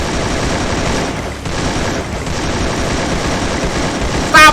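Rapid, continuous rifle fire from a dragon-skinned AK in the Free Fire shooter game rattles on loud and dense for several seconds, with only a brief lull near the middle.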